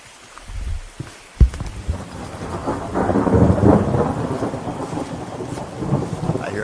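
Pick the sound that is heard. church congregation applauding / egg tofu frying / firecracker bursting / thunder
thunder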